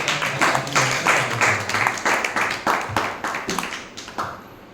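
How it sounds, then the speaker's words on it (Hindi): An audience at a Jain scriptural seminar claps in a loud series of bursts that swell and fade in a rough rhythm, then trails off toward the end. "एक बार जोरदार तालियों से"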